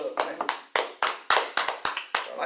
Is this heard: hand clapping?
yes